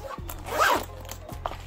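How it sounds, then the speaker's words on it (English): A zipper on a MacBook Pro case is drawn closed in one quick close pull, with soft handling sounds just before and after. "zip it all the way up"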